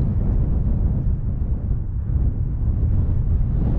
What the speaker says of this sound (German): Der Wind geht.